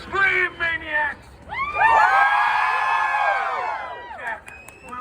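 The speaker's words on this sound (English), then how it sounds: "Let me hear you scream, maniacs!" A large crowd at Halloween Horror Nights screams loudly and sustains the shrill collective yell for a few seconds, with whoops and shouts, after an announcer's brief calls.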